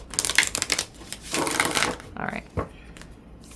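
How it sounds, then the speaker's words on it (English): Tarot cards being shuffled by hand close up, in quick riffling bursts with brief pauses between them, and a voice speaks briefly near the end. "Get a good shuffle so we can get a key theme for your pile."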